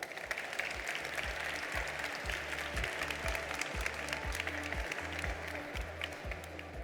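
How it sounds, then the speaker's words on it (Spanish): A conference audience at a panel on music and video games claps steadily and densely for several seconds, loud and continuous, with a rhythmic musical beat pulsing underneath. "Un aplauso para Juanjo."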